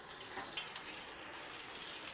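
Pieces of raw plantain frying in a pan, giving a steady hissing sizzle throughout. A single light clink of a utensil is heard early on, and no one speaks.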